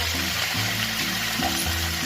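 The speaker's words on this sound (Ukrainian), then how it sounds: "трохи олії і смажимо на такому доброму вогні для того, щоб гарбуза покрилася" Oil sizzles and crackles steadily in a hot pan as pumpkin fries uncovered over fairly high heat, a continuous frying hiss with a low hum underneath.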